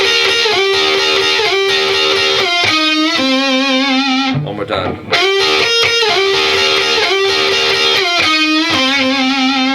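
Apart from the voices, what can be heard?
electric guitar playing a lick with slides, vibrato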